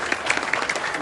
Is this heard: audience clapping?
yes